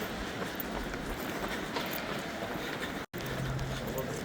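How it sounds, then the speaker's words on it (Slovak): Busy interior of Vienna's main railway station, a steady broadband rumble of trains, crowd murmur and movement throughout, cut by a brief dropout near the end, with a faint low hum afterward. "Sme vo Viedni na hlavnej vlakovej stanici."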